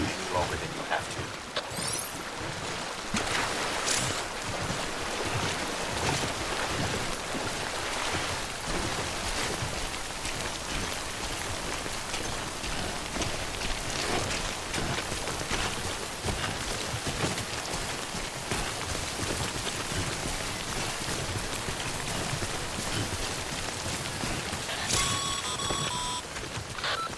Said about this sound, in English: Sam, remember that prolonged exposure to timefall damages cargo containers. Don't stay out into rain any longer than you have to.